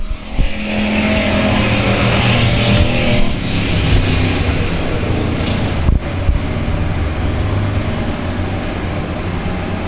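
Race cars roaring past at South Texas Speedway, a loud, dense engine drone near the start-finish line that swells and holds steady with overlapping cars, no talk.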